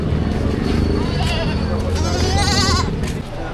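Goats bleat loudly at a busy livestock market in Padre Garcia, Batangas, several wavering cries rising over crowd chatter and nearby voices.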